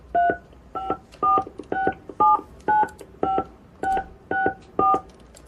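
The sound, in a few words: phone keypad tones entering a 16-digit credit card number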